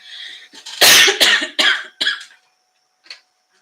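A burst of harsh coughs, four or five in quick succession, close and loud, followed by a pause and one small final cough.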